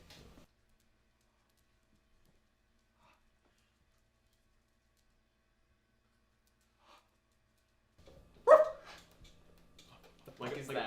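A human voice imitating a puppy, giving short yipping, whimpering sounds after a long near-silent stretch, with another short burst at the end, close and fairly loud.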